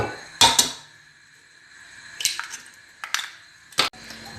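Eggs cracked and dropped into a pan with thick sauce while cooking a mini chicken pastilla, heard as a few sharp close taps and clacks of shell against the pan edge separated by quiet pauses.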